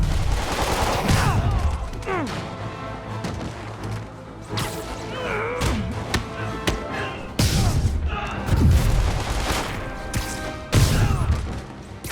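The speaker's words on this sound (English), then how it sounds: "Officers are taking sniper fire" Sniper gunfire in the PS4 game Spider-Man, with sharp repeated shots and crashing impacts bursting over a busy game soundscape, loud and irregular, with brief voices underneath.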